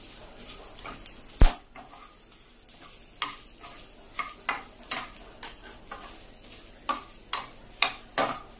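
Five dry red chillies dry-roasting in a pan for cashew fruit sukka, with a soft sizzle and a run of sharp stirring scrapes and taps, one loud clack near the start, close by with no talk.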